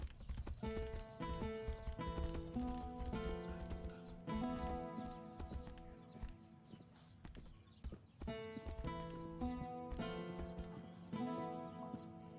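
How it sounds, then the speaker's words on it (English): Hooves of a horse in the video game Tainted Grail: Fall of Avalon clip-clop in a steady galloping rhythm over a musical score, with an occasional whinny. "I lost control of my horse."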